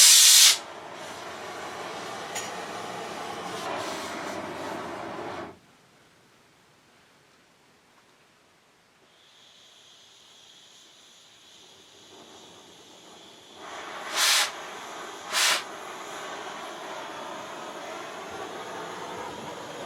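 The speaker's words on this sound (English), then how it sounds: "once I get it broke loose there with the torch" Cutting torch hissing while heating a sawmill blade loose on a mobile dimension sawmill carriage, a loud steady roaring hiss for several seconds, then near quiet, then softer hissing with two brief louder bursts near the end.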